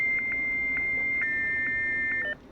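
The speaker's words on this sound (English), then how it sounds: "Dialing Dodgers Online." Electronic dialing tones of a 1995 Dodgers Online dial-up service connecting: a steady high beep with short repeated chirps over a hiss, ending abruptly, with no speech.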